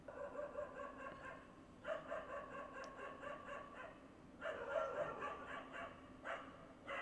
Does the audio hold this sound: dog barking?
yes